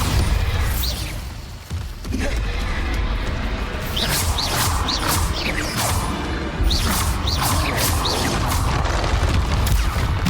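The Bombarda blasting spell in the video game Hogwarts Legacy sets off booming explosions amid combat, with repeated sharp whooshes and crashes over a dense, loud background.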